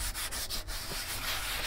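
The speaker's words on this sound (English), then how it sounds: "then we're going to sand it. I've got some 80 grit sandpaper here." Rusty painted metal on an RV is sanded by hand with folded 80 grit sandpaper, giving close, continuous scratchy rubbing strokes with quick back-and-forth rhythm.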